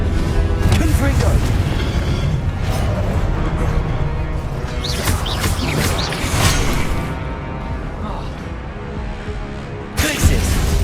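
Confringo blasting spells explode in the Hogwarts Legacy video game: a dense, loud wash of booms and whooshing bursts runs the whole time under game music and a voice, ending in a sharp burst.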